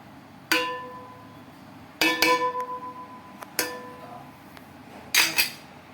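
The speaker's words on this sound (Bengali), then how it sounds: "ভালো করে এটাকে নাড়িয়ে দেবো আমরা, পুরো চারিদিকে ছড়িয়ে দেবো ভাতটা।" A spoon strikes a metal cooking pot while rice for chicken biryani is stirred, giving several separate ringing clinks spaced a second or more apart in a quiet kitchen, near and moderately loud.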